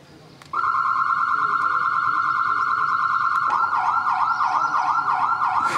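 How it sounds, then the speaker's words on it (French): A loud electronic car-alarm siren, set off on a Maserati, starts abruptly and holds a steady wail, then switches to a fast warbling pattern. It sounds close and continuous with no speech over it. "Même en Maserati, il y a certains gars qui font les malins avec des sirènes."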